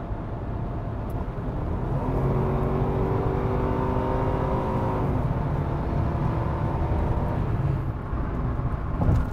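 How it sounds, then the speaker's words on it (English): A 1993 Nissan 300ZX twin turbo with 280 horsepower accelerates on a highway, its engine note climbing steadily in rising tones under constant road and wind roar, heard from inside the car. "with 280 horsepower on tap, here's both twin turbos uh, opening up"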